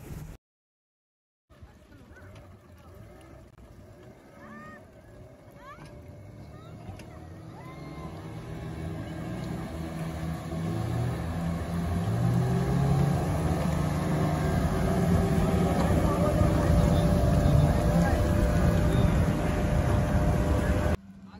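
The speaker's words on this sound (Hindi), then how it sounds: "जो ब्लू स्पीड बोट है उसमें मैं बैठा हूँ" A blue speedboat races across a lake at Tapola near Mahabaleshwar, its engine drone and rushing water building steadily into a loud, continuous roar; a voice talks over it near the start.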